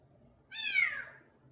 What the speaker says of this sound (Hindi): तो बिल्ली का बच्चा हम अंदर ले आए हैं।